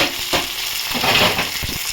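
Sliced potatoes frying in a pan with onions already cooked to a light pink, for a soybean dish; a steady close sizzle with small bursts of stirring runs throughout.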